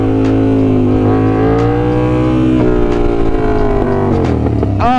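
A BMW S1000RR liter-class motorcycle revs hard during a wheelie, its engine holding a loud, steady high-pitched howl that shifts slightly in pitch before surging in quick rising sweeps at the end.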